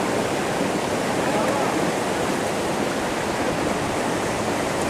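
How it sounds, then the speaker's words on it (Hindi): The Neelum River in Azad Kashmir rushes past in a constant, loud, broadband roar of flowing water, unbroken and close throughout. "को चीरते हुए जनाब दरियाए नीलम यहाँ से गुज़र रहा है।"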